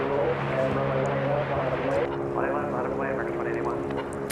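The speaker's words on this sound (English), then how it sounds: "We have another Dreamliner here, 787-800" A Boeing 787-800 Dreamliner airliner at Dallas Fort Worth airport hums with a steady, tonal engine drone at moderate distance, while voices talk over it.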